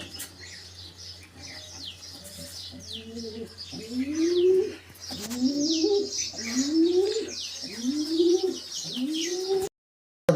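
Pigeons kept in a loft where pairs have laid eggs coo in a steady series of repeated, close, rising calls, with chirps and fainter birdsong layered above and no talking.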